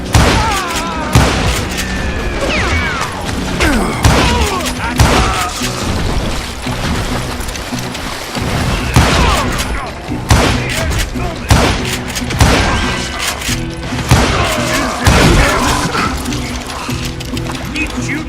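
Wild Western gunfire in Call of Juarez Gunslinger, a dense, loud barrage of repeated gunshots and booms from multiple guns over many seconds, with voices shouting amid the shooting.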